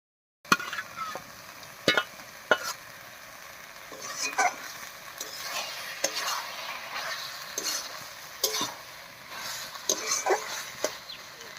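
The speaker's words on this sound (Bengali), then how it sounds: "এবার এর মধ্যে ভেজে রাখা চিংড়ি মাছগুলো দেবো।" Fried prawns tipped into kochu shak (taro leaves) cooking down in a pan, setting off a steady close sizzle with scattered stirring scrapes and sharp clicks of a utensil against the pot.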